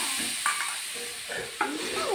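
Ground cumin, coriander and chilli paste frying with soybean and potato, a soft steady sizzle broken by a few sharp spatula scrapes against the pan, close by, with no talking.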